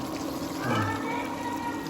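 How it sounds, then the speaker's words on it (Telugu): Water is poured into a pan of cooking food in a home kitchen, a short soft splashing gush near the middle set against steady background hum and room noise. "కొంచెం వాటర్ పోవాలి."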